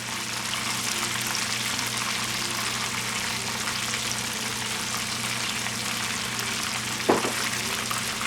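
Fish pieces frying in a hot pan, a dense, steady close sizzle and crackle that holds evenly throughout, with one brief knock near the end and no talking.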